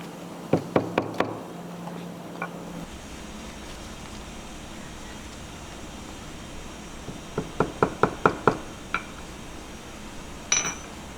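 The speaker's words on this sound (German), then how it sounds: "Und geklopft wird es, dass das später nicht so dick wird" A hammer knocks on a leather high-heel shoe upper and lining in a shoemaker's workshop: a quick burst of sharp taps, a long pause, then another rapid series and one last knock, fairly faint and with no talk.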